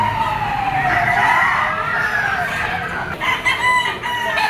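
Roosters crow loudly and repeatedly at the Lipa chicken auction market, overlapping drawn-out calls over a busy background of clucking and murmur.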